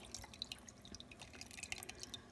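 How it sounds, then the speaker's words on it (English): Fresh lemon juice poured through a mesh strainer, faint scattered drips and small trickling splashes close by, with no talking. "I will go ahead and pour it through my mesh strainer"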